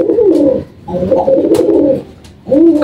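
Racing pigeons coo repeatedly and loudly up close, three throaty rolling calls in a row with brief pauses between them and no talk.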